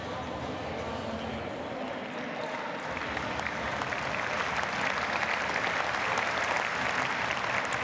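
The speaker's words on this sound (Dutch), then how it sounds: "Applaus nu voor de ballen, jongens en ballenmeisjes die worden afgewisseld." A tennis crowd at an exhibition final applauds the ball boys and ball girls, giving steady, dense clapping that swells slightly and continues throughout with no voices on top.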